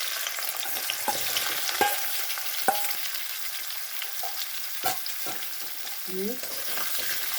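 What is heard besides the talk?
sweet potatoes frying and being stirred in pan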